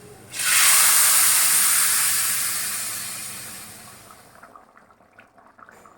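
Hot water poured into a pan of frying elephant foot yam for a Bengali hilsa fish curry bursts into a loud, steamy sizzle that hisses steadily for about four seconds, then fades away.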